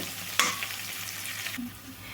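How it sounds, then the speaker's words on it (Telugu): Onions fry in a pan for an Indian vegetable dish, a soft steady sizzle with a sharp scrape of stirring near the start, close and fairly quiet. "ఉల్లిపాయలు అయితే మంచిగా వేగాలండి"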